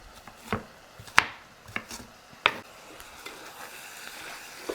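A knife chops vegetables on a cutting board for vegetable beef soup, a handful of sharp, irregular knocks close by against a quiet kitchen background, with no speech.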